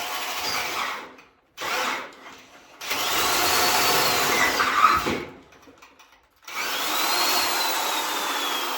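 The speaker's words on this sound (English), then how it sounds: "Amazing what a difference when you have a good drill bit." A power drill with a sharp bit whines loudly in several bursts, two short ones and then two long steady runs separated by brief pauses, close by and with no talking, while a homemade diesel submarine is being built.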